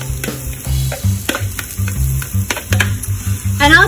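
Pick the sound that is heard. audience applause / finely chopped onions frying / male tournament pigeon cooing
finely chopped onions frying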